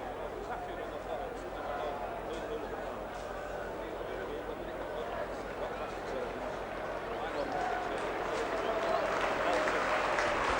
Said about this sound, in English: Sympathetic applause as Ken Kelly leads the defeated Warrington t